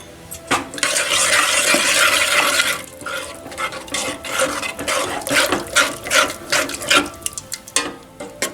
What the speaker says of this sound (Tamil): சாம்பார் தூளையும் நல்லா சேர்த்து நல்லா கலந்து விட்டுறலாம்